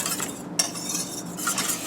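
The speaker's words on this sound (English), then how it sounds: "You can start to see the boiling, so we'll give it another mix" A spoon stirring thickening guar gum pudding as it boils in a pot: soft, close scraping and swishing against the pot, with a small clink near the start.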